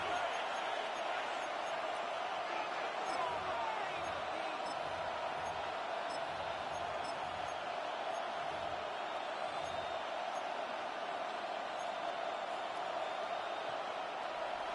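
A football video game crowd roars steadily in a stadium in an EA Sports game, a dense, even wall of cheering that holds for about fifteen seconds, with faint thuds underneath.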